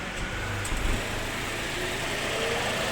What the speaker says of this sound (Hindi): तो देख सकते हैं गाड़ी चालू हो गया